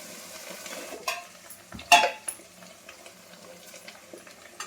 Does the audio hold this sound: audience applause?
no